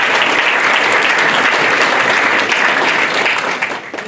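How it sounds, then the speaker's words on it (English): A dense, loud burst of sustained applause from an audience at a state senate candidate forum, many hands clapping together in a continuous wash that fades slightly at the end. "Give her a round of applause."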